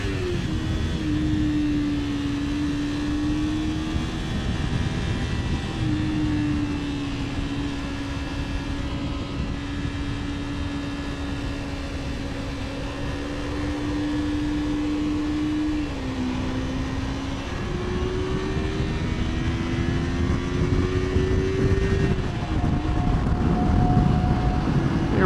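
A 2006 Kawasaki Ninja 250 parallel-twin motorcycle cruises on the highway at about 70 mph near 9,000 RPM, a steady high engine drone with gentle pitch shifts under heavy wind roar, continuous throughout.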